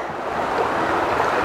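Water rushes and gurgles steadily at a hidden outdoor spot in Bengaluru, a close, continuous wash of noise with no voices.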